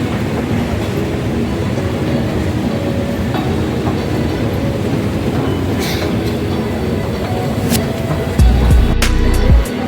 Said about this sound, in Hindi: Palam metro station